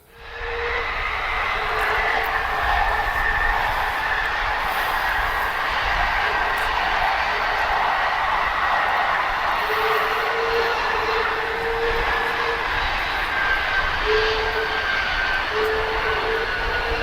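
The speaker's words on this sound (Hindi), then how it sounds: "अब आइए देखिए कैसे एक के बाद एक प्लेन जेट उतर रहे हैं" Jet planes landing at an airbase, a loud, steady roar of aircraft engines with a rising whine sustained throughout, no speech.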